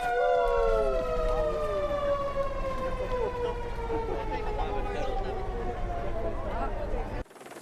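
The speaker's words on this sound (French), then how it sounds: "Il va y avoir un klaxon sur le camion de pompiers." A fire truck's horn or siren blares loudly and continuously, a sustained wailing tone with a slowly falling pitch that cuts off abruptly near the end, with crowd noise underneath.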